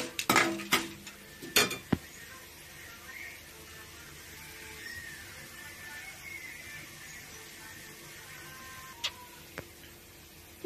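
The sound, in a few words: fenugreek seeds frying in a pan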